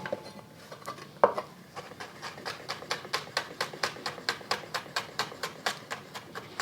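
A kitchen knife chops garlic cloves on a cutting board: one sharp smash, then a steady, even run of crisp close taps, alone with no talk.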